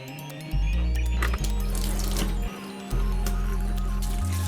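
A mug is rinsed under a running hot water tap, which gives a loud, close rush of water that shifts as the flow is interrupted, with light clinks on top.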